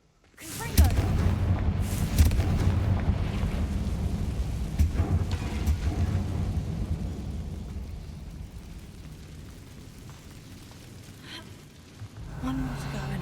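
A Confringo blasting spell in Hogwarts Legacy sets off a heavy booming explosion, followed by a long rumbling roar that slowly fades, with a few crackling bursts and a voice speaking over it.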